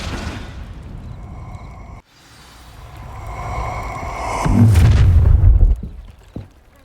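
An Incendio fire spell cast in Hogwarts Legacy bursts out with a whooshing surge that swells into a heavy, booming low rumble, then fades away with a brief late thump.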